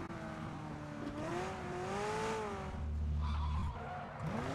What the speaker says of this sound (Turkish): Arkadan araba geliyormuş, polis arabası.